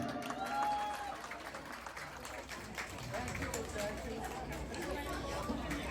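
An audience at an award ceremony applauds, a moderate spread of clapping mixed with crowd chatter and voices, heard at some distance and fairly faint.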